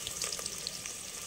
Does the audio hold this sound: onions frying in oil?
yes